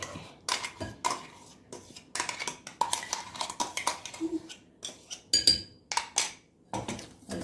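Curd and mashed banana are mixed in a bowl for banana cake batter, a utensil knocking and scraping against the sides in quick, uneven strokes, near and fairly loud, with brief pauses between bursts.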